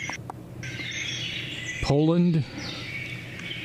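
A wild bird in a European forest gives one clear, loud call with a falling pitch over a constant high insect-like drone, and a voice briefly says a word.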